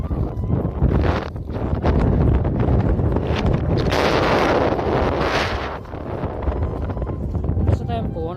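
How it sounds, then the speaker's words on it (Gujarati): Strong wind blows across an open cotton farm, buffeting the microphone in loud, rough gusts that swell and ease, with a voice talking faintly in between. "દોસ્તો એમ પવન જ બહુ ચાલી રહ્યો છે"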